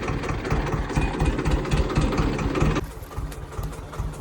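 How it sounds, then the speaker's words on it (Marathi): A Swaraj 724 tractor's diesel engine runs steadily and close, a loud low throbbing idle with rhythmic chugging that drops slightly in intensity near the end, with no talk over it. "असं आता मागं घेऊ ट्रॅक्टर."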